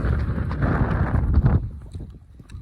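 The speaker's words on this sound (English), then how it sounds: "It's pretty windy out here." Gusty wind buffets the microphone with a low, rumbling roar that eases off after a second and a half, leaving quieter breezy noise.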